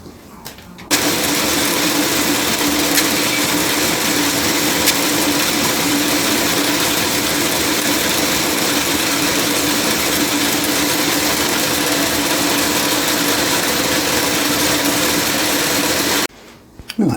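Steady broadband machining noise from a Warco A2F milling machine taking a facing cut on a riser block, continuous and loud with a constant tone throughout, stopping abruptly near the end.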